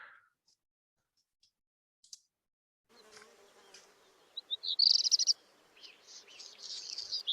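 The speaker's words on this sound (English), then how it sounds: "You may or may not know this one. This is a black redstart." A black redstart sings short, high, scratchy phrases from about three seconds on, with a louder burst of rapid notes near the middle, set against faint background hiss, with a marmot in the background.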